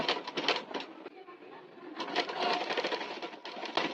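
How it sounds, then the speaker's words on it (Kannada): A sewing machine runs steadily as it stitches piping cloth for a blouse neckline, its fast rhythmic whirr close and loud, pausing briefly once before resuming. "ಪೈಪಿಂಗ್ ಕೊಡ್ಬೇಕಂದ್ರ ಈ ತರ ಬಟ್ಟೆ, ಬ್ಲೌಸಿನ ಬಟ್ಟೆನ ತಗೊಂಡು ಸ್ಟಿಚ್ ಮಾಡ್ಬಿಡ್ರಿ"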